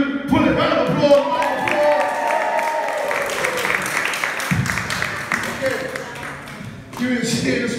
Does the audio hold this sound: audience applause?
yes